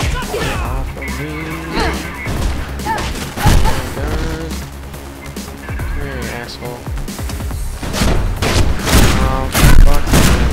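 Gunfire in the Mirror's Edge video game: repeated sharp shots and impacts scattered through a loud, busy mix of music and game effects, with a player talking over much of it.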